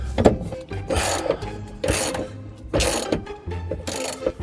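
A ratchet on a breaker bar works a suspension bolt loose on a Mk3 Golf GTI during a polyurethane bushing job. Several close clicking, ratcheting bursts come in an uneven rhythm with short pauses between them.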